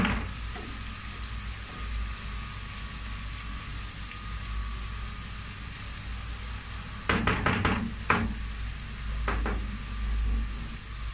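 Green beans sizzling in oil in a pan on a stovetop, a steady soft frying hiss throughout with a few sharper clatters of stirring near the end; no talking.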